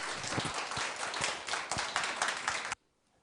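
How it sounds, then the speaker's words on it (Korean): An audience at a Korean author talk welcomes a novelist with warm, dense applause, loud and close, that stops abruptly into near silence after under three seconds. "여러분, 문지역 작가님 우리 뜨거운 박수로 한번 모셔보겠습니다. 박수 부탁드려요."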